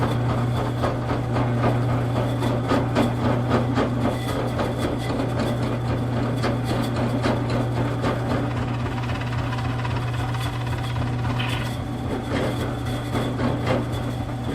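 A power drill with a loosely seated drill bit runs in a steady, unbroken drone for the whole stretch, its low motor hum constant and fairly close, with no talk over it.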